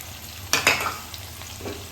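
Onion, carrot and capsicum being stir-fried over a high flame for dry manchurian, with a couple of sharp stirring scrapes near the start and a soft sizzle running underneath, no voices.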